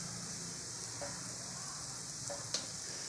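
Turmeric, garam masala and red chili powder fry in hot oil in a pan for a ridge gourd curry, giving a steady, soft sizzle throughout with a couple of faint clicks and one sharp tap near the end.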